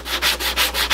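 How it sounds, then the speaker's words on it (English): A hand sander rubs back and forth over the wooden edges of a small travel cajon, a rhythmic scratchy rasp pulsing about five times in a second, close and loud with no speech. "I'm just gonna use a hand sander to finish off any of these burrs that may still be there"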